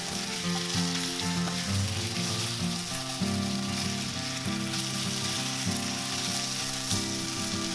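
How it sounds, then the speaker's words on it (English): Chicken sizzles and crackles steadily in a hot wok, with repeated scraping and tossing sounds from stir frying throughout. "it's time to start stir frying."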